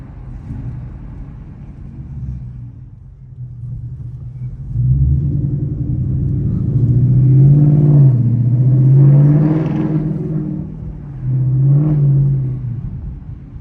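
A deep Ford Mustang GT V8 engine rumbles up close, revving and swelling in waves as the car accelerates through city streets, then easing off between pulls.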